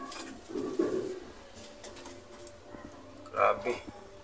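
A racing pigeon coos softly a few times, with a louder burst near the end, while someone talks over it in a quiet outdoor setting after a derby race.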